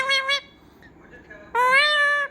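A talking parrot imitating a cat's meow: two short, bright meow-like calls in quick succession, then a pause and one longer, rising, drawn-out meow, all close and clear.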